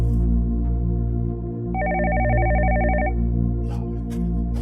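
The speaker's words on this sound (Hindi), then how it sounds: "एक और फोन आ गया।" A telephone rings in a drama scene, a single electronic trilling burst of about a second and a half over a steady low background hum.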